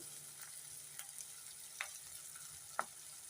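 Onions and ginger-garlic paste fry in a pan for a dish of small eggs, a low steady sizzle with a few sharp clicks of a spoon against the pan.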